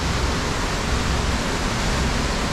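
Heavy rain pours down at a lock on the Crinan Canal, a steady dense broadband hiss that holds close and loud throughout with no talk.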